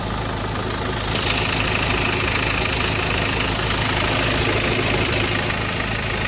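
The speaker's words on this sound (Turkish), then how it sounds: "İşte bitik motor bu arkadaşlar." A worn-out engine idling in a repair shop after being restarted, a loud, continuous rough drone with an uneven knocking pulse running throughout, close and without voices.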